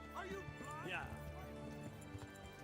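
Horse hoofbeats while riding in the video game Kingdom Come Deliverance: a steady clip-clop gait runs under game dialogue and music, fairly quiet and continuous throughout.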